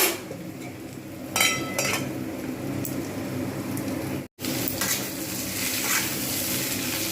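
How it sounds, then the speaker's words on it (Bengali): Potatoes and onions sizzle steadily in a hot pan, with occasional scrapes and clinks of a utensil stirring, broken by a brief silent cut partway through. "এটা কিন্তু ভাজতে ভাজতেই এটা সিদ্ধ হয়ে যাবে"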